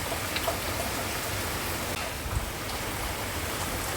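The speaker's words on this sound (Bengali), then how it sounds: "বৃষ্টি শুরু হয়েছে" Morning rain falling outdoors, a steady, fairly faint broadband patter and hiss without distinct drops or voices, holding level throughout.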